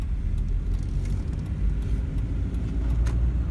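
A car engine during a driving lesson, a low steady rumble with road noise from inside the cabin, holding even without any clear rise, no talking.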